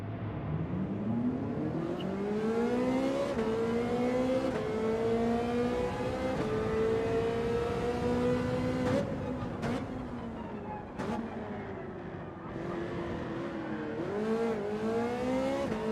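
A Ferrari race car in Gran Turismo 7 holds a steady, sustained engine drone through long rising and falling gear pulls, with a few brief sharp ticks and no talking.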